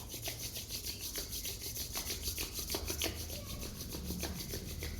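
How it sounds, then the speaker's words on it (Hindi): Palms rubbing together during a weight-loss yoga session, giving a continuous soft, even friction hiss that stays close and steady with no talking. "दोनों हाथों को रब करेंगे।"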